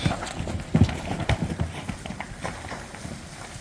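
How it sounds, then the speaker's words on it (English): Hooves of a group of roughly 60 spooked heifers thud and scuffle as they run around a dusty pen, an irregular cluster of close, moderately loud hoofbeats rising in the first half, then settling into softer trampling. "they're running around in there and stirring up all kinds of dust"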